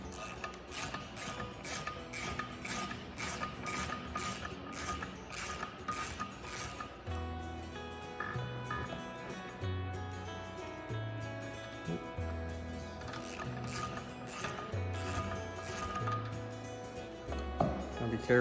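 Ratchet wrench loosening the injector nozzle nuts on a 12-valve Cummins with a P-pump, heard as a rapid, steady run of close mechanical clicks that later gives way to a lower, humming tonal background.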